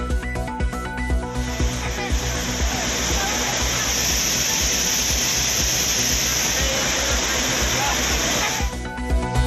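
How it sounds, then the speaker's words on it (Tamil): The Courtallam waterfalls, flooded after days of continuous rain, pour in a dense, loud, unbroken roar, with a news presenter talking over the rushing water almost throughout. "தொடர் மழையால் குற்றால அருவிகளில் கடும் வெள்ளப்பெருக்கு."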